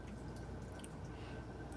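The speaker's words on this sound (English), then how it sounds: "Anyway, I'm gonna pour this out because I don't feel like drinking." Liquid from a drink is poured out in a steady, faint trickle, with soft dripping and squishing splashes over a low background hum.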